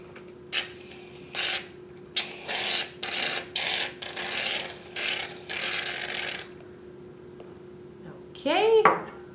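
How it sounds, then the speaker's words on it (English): A can of shaving cream is shaken, giving a series of short rattling bursts in a steady rhythm close up, followed by a brief spray or hiss at the end. "I'm going to shake up my shaving cream and just add a little bit."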